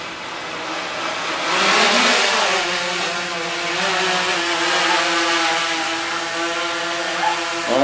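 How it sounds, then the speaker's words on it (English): A truck drives off outdoors, its engine note swelling to a loud peak around two seconds in and then holding a steady, fairly close drone that shifts slightly in pitch as it pulls away. "We'll wait for this truck to leave."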